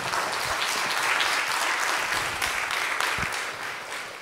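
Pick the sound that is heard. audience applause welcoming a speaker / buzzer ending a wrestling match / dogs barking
audience applause welcoming a speaker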